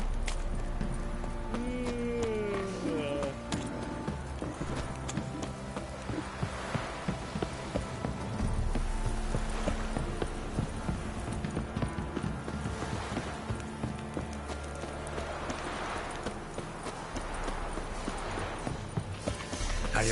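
In The Witcher 3, horse hooves clip-clop steadily over continuous game ambience and music, with a possible whinny partway through. The hoofbeats are moderately loud and last throughout.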